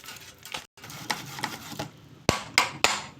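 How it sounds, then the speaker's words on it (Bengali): Palm fruit is rubbed against a kitchen grater in quick, irregular scraping strokes, each a short rasp close to the listener, with a brief pause partway and a few sharper knocks near the end. "একটা গ্রেটার নিয়েছি, এরকম করে সবগুলো ঘষে নেব।"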